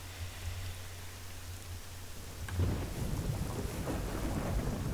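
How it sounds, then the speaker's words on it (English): Thunderstorm with rain in the video game Nightmare Frames: a low rumble under a steady rain hiss, then a louder crack of thunder midway that gives way to heavier rolling rumble and denser rain, with no talking. "Father Adamson can't stand this constant banging of the window on stormy days like this."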